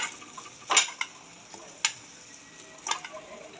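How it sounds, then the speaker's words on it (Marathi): Half a kilo of dates drops into a kadai (wok), making a few separate sharp clattering knocks spaced apart in a quiet kitchen. "अर्धा किलो खजूर मी कढईत टाकलेला आहे"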